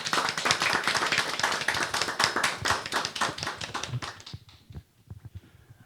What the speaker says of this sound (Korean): 자, 큰 박수로 맞아주십시오.